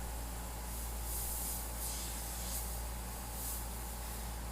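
Airbrush spraying custom paint in soft short strokes, a faint steady hiss of air with several gentle swelling puffs spaced a second or so apart, alone without talk.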